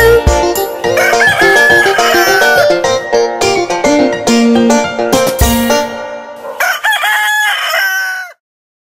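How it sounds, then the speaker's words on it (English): A loud rooster crows in a long drawn-out call, repeated with clucking fowl over bright background music before ending abruptly. "Cock-a-doodle-doo."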